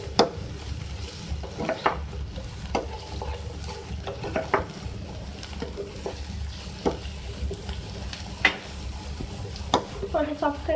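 A spoon stirs capsicum sizzling in a pan for an omelet, with a steady fry hiss underneath and repeated sharp scrapes and clinks against the pan at irregular intervals.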